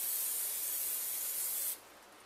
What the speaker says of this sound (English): I'm going to spray the crock pot a little bit with some olive oil spray.